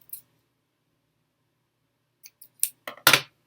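A few quiet snips of scissors cut yarn on a weaving loom, short crisp clicks clustered near the end after a long silence.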